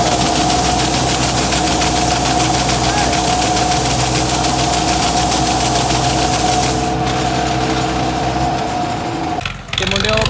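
A Swaraj 855 FE tractor engine labours steadily while pulling a fully loaded trolley, a loud, close, low chugging drone that runs for most of the clip before dropping off near the end, with voices talking over it.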